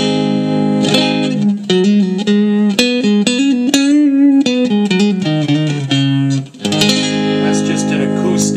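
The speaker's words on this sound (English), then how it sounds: "That's just an acoustics clean sound. There's your JC clean." A guitar plays a clean tone through a Roland Micro Cube amplifier, with a steady run of ringing notes and short phrases, close and fairly loud, with no one talking.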